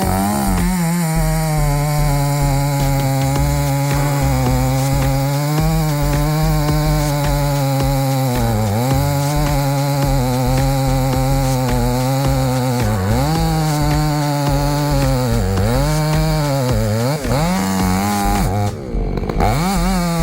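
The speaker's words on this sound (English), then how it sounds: "The roar of the chainsaw was answered by the sharp crack of wood." A chainsaw cuts through thick wood with a loud, continuous close-up roar, the engine pitch rising and dipping as the blade bites and eases throughout.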